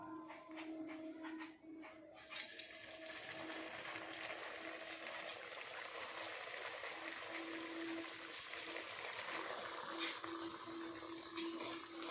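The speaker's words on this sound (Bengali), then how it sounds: "এবার আমি সব পিঠেগুলো হালকা আঁচে ভেজে নেব" Soft, steady sizzling of pitha frying in hot white oil over low heat, quiet and continuous, with an occasional faint clink.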